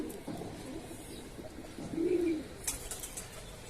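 Pigeons coo softly in a crowded loft, with a few low, brief coos and some light fluttering over faint background noise.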